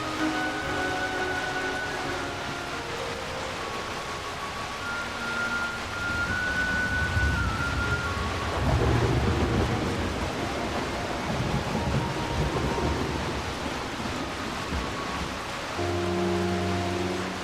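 Steady cartoon rainfall with rumbling thunder and wind fills a children's animated rain story, loud and continuous, joined by light musical tones throughout.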